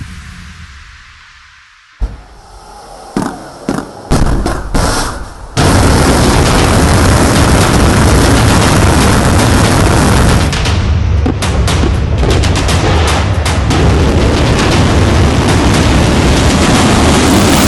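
A missile launch after a countdown: a quiet lead-in breaks into a few sharp bursts, then a huge continuous roaring blast that holds loud and steady to the end, with no talk.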